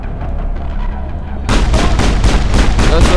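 Sustained gunfire in the sci-fi game Mass Effect: a rumbling low pulse of rapid shots that suddenly grows louder and brighter into a steady, repeating stream of blasts.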